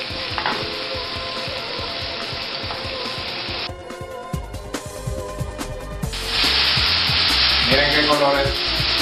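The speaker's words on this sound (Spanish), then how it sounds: "voy de inmediato a colocar mi brochetta en la sartén" Skewers sizzling in a hot frying pan give a loud, close, continuous hiss that swells sharply as they are laid in, with occasional clatters and scrapes and no voices.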